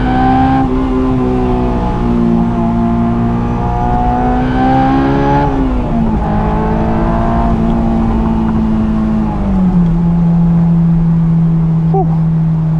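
Honda S2000 engine drones steadily from inside the car as it drives along a narrow roadside stretch, with harmonic pitch dropping at two points like gear changes; continuous and close with no talk.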